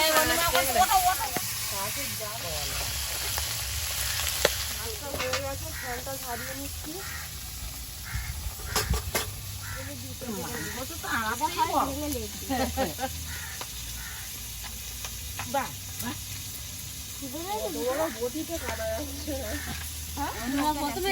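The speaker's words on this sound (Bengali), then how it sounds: "কড়াইতে তেল দিয়ে দেবো" Oil hisses and sizzles steadily in a karahi set on a clay stove, ready for frying magur catfish, a soft continuous fizz running under frequent nearby conversation.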